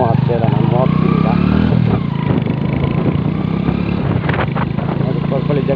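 A motorcycle pulls away and rides off, its engine droning steadily and loud with shifting revs, while someone talks over it throughout.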